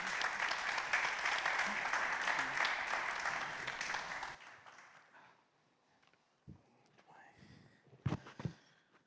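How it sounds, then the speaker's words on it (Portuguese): An audience applauds loudly and steadily after a panel discussion on artificial intelligence in defence and security. The clapping then stops abruptly, leaving only scattered quiet shuffles and small noises. "Peço só uma salva de palmas para eles."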